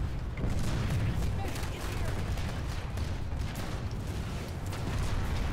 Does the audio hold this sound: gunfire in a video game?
yes